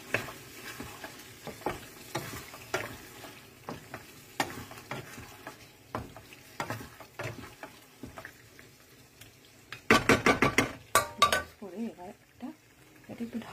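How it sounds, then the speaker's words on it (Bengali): Marinated chicken being stirred in a pan for palak chicken, with repeated scraping and clattering of a utensil against the pan under a low sizzle, growing into a louder burst of rapid metallic scraping near the end; a voice speaks faintly. "ভালো করে মিক্স করতে হবে।"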